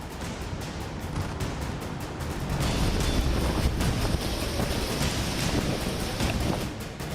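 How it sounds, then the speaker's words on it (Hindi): Heavy rain and strong gusting wind from Cyclone Yaas on the Odisha coast, a dense continuous roar that swells louder midway and holds steady, with no talk. "गरजते बादल, तेज हवाएं और धुआंधार बारिश के बीच तेज रफ्तार से चक्रवाती तूफान यास ओडिशा के भद्रक जिले में धामरा तट से टकराया"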